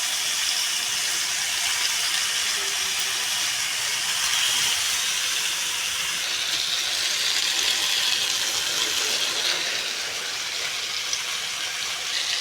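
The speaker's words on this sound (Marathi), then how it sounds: "हाय फ्लेमवरतीच आपण ह्याला फ्राय करणार आहोत" Paneer tikka sticks fry in hot oil in a pan over a high flame, giving a loud, continuous, even sizzle and hiss with no talk.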